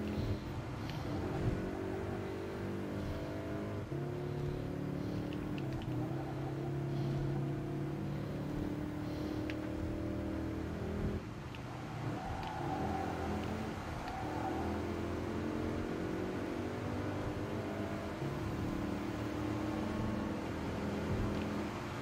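A car engine in the Gran Turismo racing game, played on a PS4 Pro, hums and revs faintly and continuously, rising and easing without a break.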